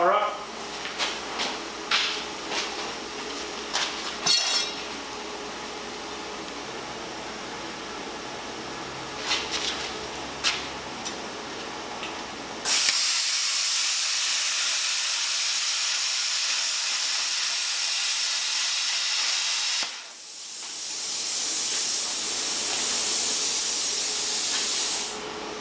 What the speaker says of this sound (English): the plasma cutter does a lot better on this rusty junk